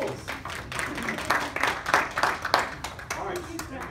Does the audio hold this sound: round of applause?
yes